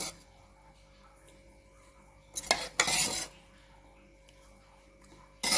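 Curd stirred with a spoon into a homemade hair pack mixture in a bowl, a short burst of scraping clinks near the middle, then quiet, with another clink at the end.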